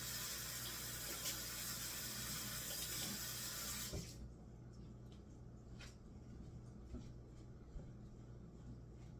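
Tap water runs loudly while peppers are washed, a steady rush that drops to a quieter trickle partway through, with small knocks and splashes and no talking.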